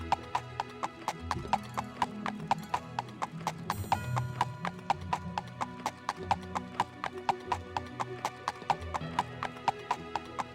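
Horse hooves gallop in Elder Scrolls 2, a steady, close clip-clop beat running evenly throughout over a low tonal background.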